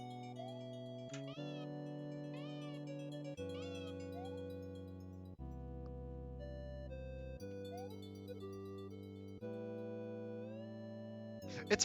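Electronic, tonal cat meows in a video game, several pitched bending calls layered over sustained synthetic music tones, steady and moderately quiet throughout.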